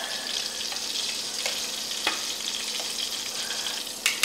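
Shrimp frying in a pan, a continuous crackling sizzle with scattered sharp pops and a few louder spits near the end, heard alone at close range.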